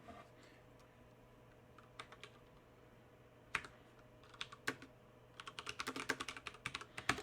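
A computer keyboard clicks in short scattered bursts of keystrokes, starting sparse and growing into a quicker run of close, crisp taps with no one talking.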